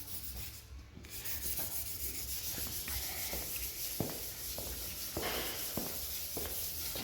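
Hand sanding scuffs a painted surface on a car, a soft rasping rub in short uneven strokes, close and fairly quiet, with no talking.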